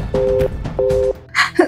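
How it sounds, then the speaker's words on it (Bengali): A call to a switched-off mobile phone produces two steady electronic beeps in a row, followed by a brief breathy sound close by. "ওর ফোন তো সুইচ অফ বলছে"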